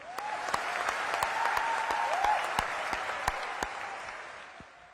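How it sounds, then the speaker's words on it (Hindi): Dense, sustained clapping from a large crowd welcomes Prime Minister Narendra Modi at an international airport inauguration, steady throughout and fading slightly toward the end. "परम आदरणीय प्रधानमंत्री नरेंद्र मोदी जी की तालियों की गड़गड़ाहट से स्वागत करेंगे"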